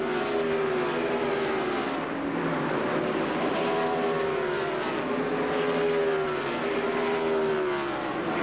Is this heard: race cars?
yes